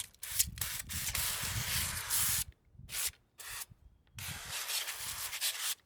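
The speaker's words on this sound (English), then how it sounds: "I'm going to spray some oil in it." Cooking oil hisses from a spray can into an air fryer basket before shrimp potato balls go in. It comes as several short, close, sharp sprays separated by brief silences.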